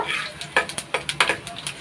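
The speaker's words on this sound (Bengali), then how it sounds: "দেওয়ার পরে একটু নেড়ে করে এখানে একটু ভেজে নেব" Panch phoron and dried chillies sizzle softly in hot oil while a spatula scrapes and clinks against the pan in quick, irregular strokes, up close with no talk.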